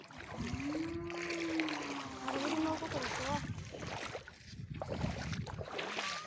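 A boat moves on water in a rural setting, with faint, continuous lapping and wash sounds and a low, distant rumble, while people talk nearby.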